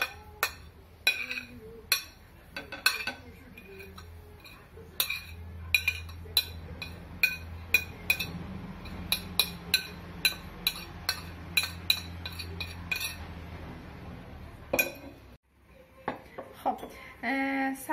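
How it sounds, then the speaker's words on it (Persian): Fork clinks repeatedly against a bowl while dried herbs are stirred with a small amount of water for ghormeh sabzi, giving sharp metallic taps in an uneven rhythm, close and fairly loud, with a brief pause near the end. "مقدار خیلی کم من آب میریزم و با چنگال هم میزنم"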